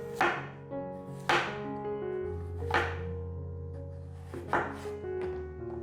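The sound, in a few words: knife cutting white radish into shreds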